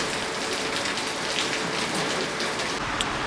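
Steady heavy rain pouring down during a bicycle trip on a volcano route, a dense, even hiss of drops close around with no pauses and no voices.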